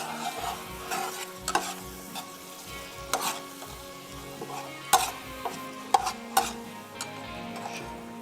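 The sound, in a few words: bhindi paneer being stir-fried on high flame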